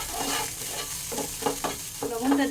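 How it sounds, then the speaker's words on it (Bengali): Mint paste with salt sizzles lightly in a pan as it is stirred, a steady soft fry broken by scraping strokes, close and without talk. "লবণটা দিয়ে এটাকে আমি মিনিট খানেক একটু হালকা ভাজা ভাজা করলাম"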